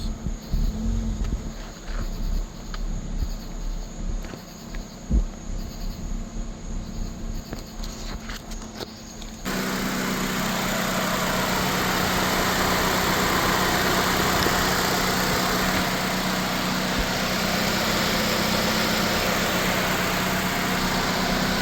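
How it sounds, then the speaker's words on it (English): A 2006 Nissan Sentra 1.8L automatic idles with its AC compressor cycling, heard up close under the hood as a steady engine hum with ticking, then an abrupt shift partway through to a louder, even whir. "That's the compressor kicking on and off."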